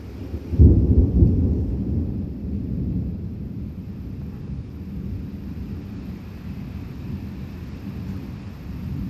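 A deep roll of thunder booms early and slowly fades into a low, steady storm rumble with faint rain hiss.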